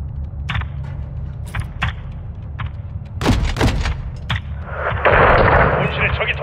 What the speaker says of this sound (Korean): 헤비 공격대 40mm포.